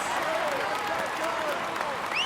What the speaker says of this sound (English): Come on, let's applaud him loudly!